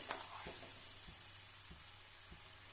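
Cauliflower gently sautéing in a pan gives a faint, steady sizzle with a few soft spoon knocks spaced about half a second apart, quiet and close.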